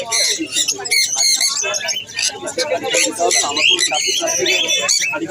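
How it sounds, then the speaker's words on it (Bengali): Lovebirds squawk and chirp in a dense, continuous chorus at a busy bird market in Serampore, with shrill overlapping calls loud and close throughout. "এগুলো সব লাভবার।"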